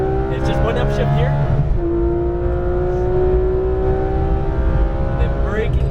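Exotic race car engine on a circuit, a loud sustained in-car drone that climbs in pitch, drops sharply at a single upshift, then climbs steadily again, with a voice talking over it.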